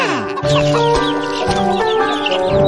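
Chickens cluck continuously in a coop, loud and close, with overlapping clucks and squawks over a busy cartoon music bed.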